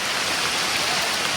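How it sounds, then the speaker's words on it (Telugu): Steady, dense rain pours down in a windy rainstorm in the forested hills around Araku, a loud unbroken wash of drops hitting surfaces close by, with no voices. "అవునరా గాలివాన"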